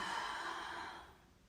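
A long, breathy exhale during a gentle beginner yoga session, close and soft, fading out toward the end.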